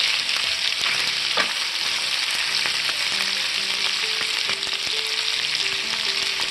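Bell peppers sizzle with sausage in a hot pan, a loud steady frying hiss with scraping stirring sounds and soft clinks, close up and without talk.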